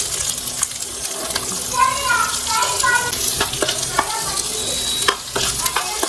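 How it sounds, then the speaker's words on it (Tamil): Onions sizzle and crackle in hot oil while being stirred, with a voice talking over the frying. "எண்ணெய் ஊற்றினா டைரெக்டாக நம்ம வெங்காயத்தை தூக்கி போட்டுருவோம்."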